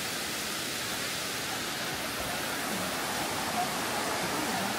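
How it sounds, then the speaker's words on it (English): A waterfall on a hiking trail rushes in a dense, unbroken roar of falling water that stays loud and steady throughout. "Looks like we made it to one part of the waterfall."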